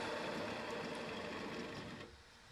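A wood-turning gouge pushed straight into a spinning bowl blank on a lathe, hogging out the center: a steady, fairly loud cutting roar with a whirring motor underneath that drops away sharply near the end.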